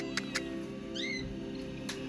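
A cat meows once at a bird and pet market in Makkah, a short rising-and-falling cry heard over the steady hum and murmur of the market, with a few faint clicks around it.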